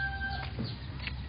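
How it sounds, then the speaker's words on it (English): A rooster at a rural house in the Philippines gives a brief, faint cluck or call against a noisy outdoor background. "That's their rooster."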